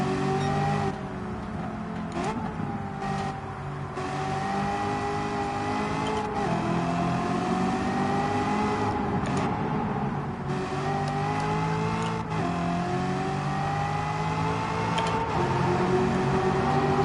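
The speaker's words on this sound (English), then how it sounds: "Hear that supercharger whirring up." A supercharged car engine in the racing game Gran Turismo 7 whines and hums at high revs, rising and easing across gear changes in a loud, continuous drone.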